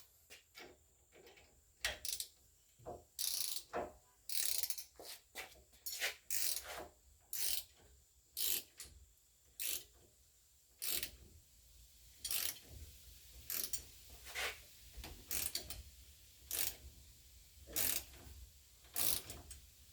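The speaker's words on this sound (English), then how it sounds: "I'm going to take my giant 2-inch ratchet with a 21 socket, and I'm going to start tightening down this press." A giant 2-inch drive ratchet with a 21 mm socket tightening a ball joint press on a 2017 Jeep Wrangler, giving repeated bursts of rapid pawl clicking in an uneven rhythm, close and crisp.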